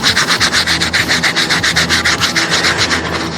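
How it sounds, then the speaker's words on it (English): Close, loud scrubbing of grimy elbow pads during washing, a fast steady back-and-forth rubbing of about six strokes per second with no voices. "So give them a good scrub, soak them up really well."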